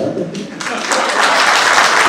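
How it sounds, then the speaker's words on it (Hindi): Audience at a stage play breaks into applause, a dense wash of clapping that swells and holds, close and loud. "मैंने जबान से बोला, आपने ताली बजा दी"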